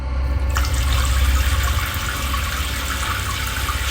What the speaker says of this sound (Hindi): ऑफिस की थकान कम करने के लिए पूजा शावर लेने जाती है।